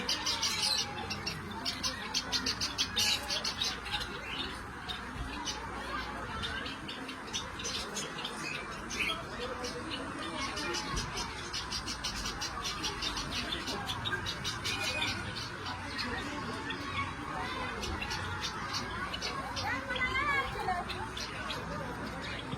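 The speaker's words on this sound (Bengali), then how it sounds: "এখানে ভেতরে বিভিন্ন ধরনের সব পাখি রয়েছে।" Many kinds of birds chirp and tweet at Taki Maldive Resort near Kolkata, a dense, continuous chatter of quick, overlapping calls at moderate distance.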